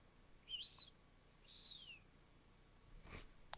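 A person whistles short bird-like calls in imitation of a bird, two rising-and-falling chirps a second apart, fairly faint, followed by a brief breathy rustle.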